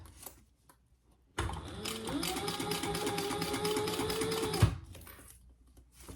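Sewing machine top stitching a small pouch bag: a steady, close, rapid mechanical chatter running for about three seconds, starting abruptly and stopping sharply, with quiet handling before and after.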